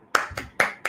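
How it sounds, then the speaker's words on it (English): Four sharp hand claps at an even, moderate pace, close and fairly loud, with nothing else around them. "clap your hands"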